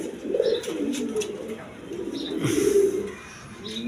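A pair of Masaldam pigeons, male and female, coo softly in low rolling phrases close by, with faint background chatter and a few light chirps.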